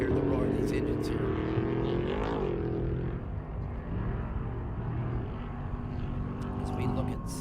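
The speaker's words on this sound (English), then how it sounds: "You hear the roar of these engines here." Racing truck engines roar loud and continuous at a short-track event, with one pitch sweeping up and falling back as a truck passes, under a thick blend of engine noise.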